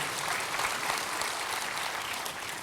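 A church congregation claps together in steady, dense applause that fills the whole stretch at an even level, with no voices standing out.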